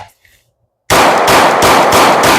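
Handgun shots on a shooting range, a close, loud string of rapid cracks fired in quick succession after a short pause of near silence.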